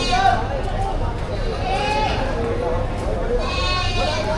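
Goats bleat amid a busy livestock market in Padre Garcia, Batangas, with several wavering animal cries over constant crowd chatter and nearby voices.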